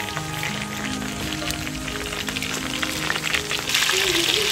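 Shallots frying in hot oil for Kerala-style fried chicken feet give a steady, close crackling sizzle that grows a little louder and brighter near the end, with faint low voices and kitchen sounds underneath.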